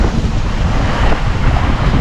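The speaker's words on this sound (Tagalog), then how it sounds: "Lalaki ng alon, grabe." Big sea waves crash and churn around a boat under way while strong wind buffets the microphone, a constant loud roaring wash throughout.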